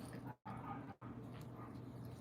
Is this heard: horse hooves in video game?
no